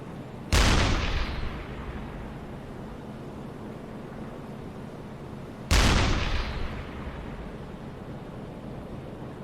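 A submarine deck gun fires HE shells in the video game UBOAT, with two loud, sharp booms about five seconds apart, each trailing off into a rumbling decay over steady background noise.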